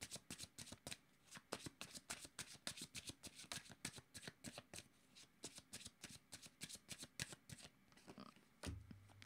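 Tarot cards shuffled by hand in a quick, steady run of crisp riffling flicks, close and fairly quiet, continuing for about nine seconds with no talking.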